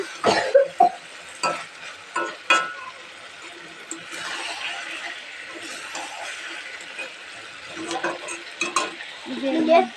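Meat being stir-fried in a pot for a roti-and-meat dish, with intermittent spatula scrapes and clanks against the metal over a soft, steady sizzle.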